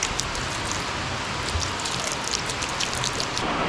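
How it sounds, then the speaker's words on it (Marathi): Heavy rain pours down in a dense, continuous hiss with scattered drops pattering on nearby surfaces, steady and unbroken throughout. "एकदम जोरात आलेला आहे पाऊस"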